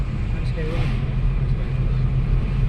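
A car drives along a road through a forest area, giving a steady, close engine and road rumble with a low hum that runs unbroken for the whole stretch.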